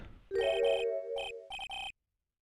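A public phone by a bridge in the Phoenix Wright video game rings in a chiptune-style electronic ringtone: a sustained tone, then several short chirping bursts, ending abruptly in silence.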